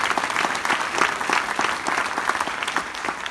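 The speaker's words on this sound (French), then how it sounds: "Vous pouvez applaudir Julien de l'agence TAS qui est là." Conference audience in Castelmaurou applauding a member of an agency, steady dense clapping from a sizeable crowd throughout, fairly close and even.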